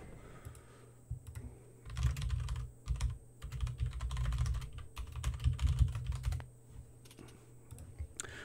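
Typing on a computer keyboard gives close, continuous clicking in uneven bursts, with brief pauses between runs of keystrokes.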